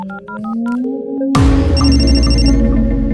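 A phone ringtone starts as a melodic electronic jingle of repeated tones, then a loud sustained musical swell with a deep low rumble takes over, as in a dramatic action film scene.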